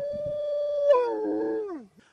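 A dog from The Littlest Hobo TV show lets out one long sustained howl that holds a steady pitch, then bends and slides downward before fading, close and clear with no talking.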